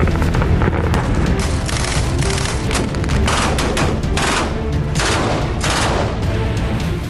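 Merkava tank firing and roaring at the Lebanon border in wartime: a continuous loud barrage of booming blasts and dense rumbling gunfire with no pauses, heavy and close throughout.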